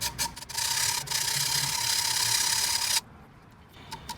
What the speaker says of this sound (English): Simply holding it in the middle like this and just sawing it back and forth.